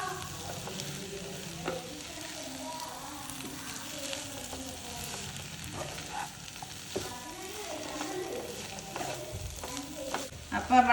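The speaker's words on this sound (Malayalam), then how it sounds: "ഇതെല്ലാം കൂടിയിട്ടൊന്ന് നല്ലോണം ഒന്ന് മിക്സ് ചെയ്യും." A Kerala tea-time snack filling is stirred and mixed in a hot pan, giving a soft continuous sizzle with scraping spoon strokes at a close, quiet level.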